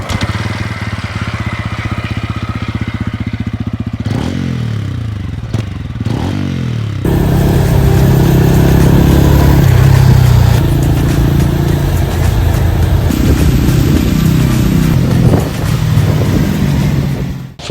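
A TVS Ronin 225cc cruiser-scrambler motorcycle engine runs close by, with a few sharp revving swells early on, then a louder, steady rumbling idle that holds to the end with no talk.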